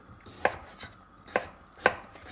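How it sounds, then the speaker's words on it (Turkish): A knife chops carrots on a cutting board, three sharp, evenly spaced thuds with soft scraping between them, close and clear. "Havuçları da bu şekilde doğrayalım."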